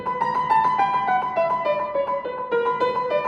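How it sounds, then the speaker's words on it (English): A lone violin plays a fast, leaping bowed line with crisp separate notes and no accompaniment, bright and close. "It's unaccompanied violin."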